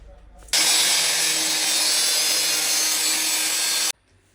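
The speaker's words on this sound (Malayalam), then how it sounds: "നമുക്ക് ഈ സൈഡ് ഈ 4 ഇഞ്ചിൻ്റെ സൈഡ് ഒന്നും കൂടി ചെറുതായിട്ട് ഒന്നുകൂടി കട്ട് ചെയ്ത് കളയാം" A loud, continuous power-tool cut through the 4-inch side of a PVC pipe offset connector lasts about three and a half seconds, starting and stopping abruptly.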